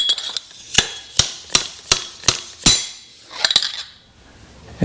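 A metal seal driver taps a fork seal onto an Indian Chieftain motorcycle fork tube, about eight bright, ringing metallic strikes at a steady pace, then a quick cluster of lighter taps, close and clear with no talk.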